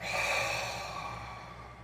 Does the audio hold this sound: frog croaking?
no